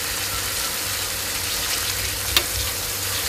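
Beef for a salad frying in a pan gives a steady, close sizzle, with one sharp click near the end.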